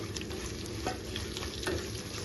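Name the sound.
drumstick pieces frying in a pan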